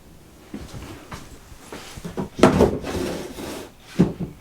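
A large wooden drawer in a travel trailer slides open with a scraping rumble, ending in a soft knock as it stops; a smaller bump follows a moment later.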